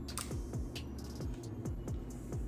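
A bench scraper presses through a slab of vegan chocolate bark, giving a series of sharp little taps and snaps in a loose, uneven rhythm, close up over a steady low background hum, with no talking.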